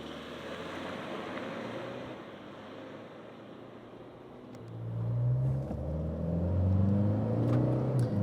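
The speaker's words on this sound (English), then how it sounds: "Just going to dial up some revs, and then we'll see what happens." 2025 Toyota LandCruiser Prado hybrid in sport mode, engine droning under steady road noise, then rising loudly in revs as it accelerates hard through the second half.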